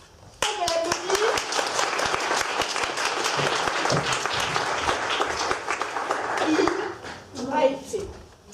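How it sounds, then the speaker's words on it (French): Audience applause at a French comedy show, a dense burst of clapping that swells and holds for several seconds, with a few voices calling out over it near the end. "On peut l'applaudir."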